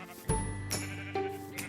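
Sheep bleat in a Minecraft world, one loud wavering bleat followed by fainter overlapping bleats, close and alone without talk.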